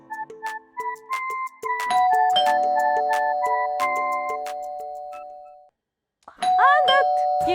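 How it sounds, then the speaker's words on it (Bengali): An electronic doorbell rings repeatedly in a home, several bright melodic chimes in quick succession, loud and close, stopping briefly before another burst; a voice is heard near the end. "কে যে এত কলিং বেল দিতেছে?"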